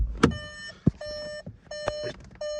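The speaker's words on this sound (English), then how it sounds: "That beeper's telling me my ignition's on." A 2013 Volkswagen Golf 1.6 TDI DSG chiming its ignition-on warning, a series of clear electronic beeps in repeating pulses, close and loud, with a few clicks and thumps in between.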